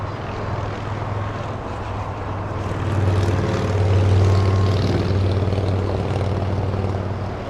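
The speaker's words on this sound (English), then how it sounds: "he is Air France 73 heading back to Paris. A 777-200." An Air France Boeing 777-200 at Los Angeles International Airport gives a low, droning engine rumble that builds in the middle and then eases, moderately distant, with a steady deep hum and no voices over it.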